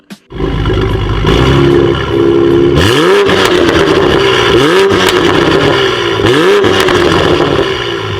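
A Toyota Supra MK5's exhaust roars close by, holding a deep steady growl and then revving up three times in sweeping rises and falls.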